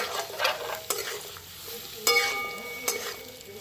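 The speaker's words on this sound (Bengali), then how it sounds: "দু মিনিট ভালো করে ভেজে নিয়েছি এবার ক্যাপসিকাম আর পেঁয়াজটা এর মধ্যে দিয়ে দেবো" Capsicum and onion stir-fried in a pan for chilli chicken, a loud close sizzle broken by sharp scrapes and clanks of a spatula against the pan, with no voices.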